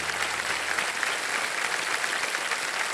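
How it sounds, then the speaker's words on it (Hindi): A studio audience on the TV quiz show Kaun Banega Crorepati claps in a dense, continuous burst of applause, loud and even throughout, with no voices over it. "तालियां बज जाए इनके लिए"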